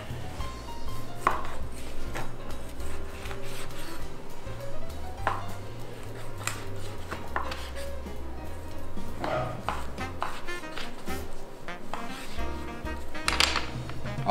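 A sharp knife cuts lamb rib portions on a board, giving repeated firm chopping knocks at a steady, uneven rhythm, close and clear, with a faint background hum.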